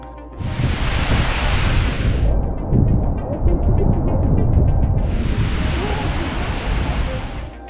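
Icelandic waterfall in winter, with a shallow cave behind the falling water, gives a loud, steady roar of crashing water, with two stretches where a brighter hiss swells over the rumble.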